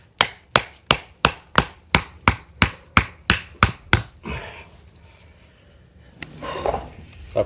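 A landscape lighting fixture stake is tapped into the ground with about eleven sharp, evenly spaced hammer-like strikes, fairly close and loud, followed by a few seconds of quiet handling and rustling.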